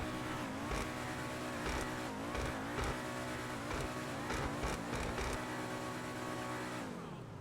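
An Ubermacht Niobe hybrid car in GTA Online gives a steady, loud engine drone with a few brief rev swells, alone and with no talk.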